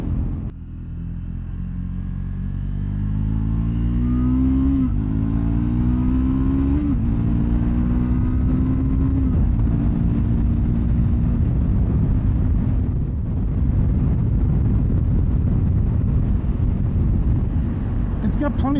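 A 2024 Triumph Scrambler 400X, a 40-horsepower street motorcycle, pulls away on a ride, its engine note climbing through several gears with rising pitch, loud and close under heavy wind rumble.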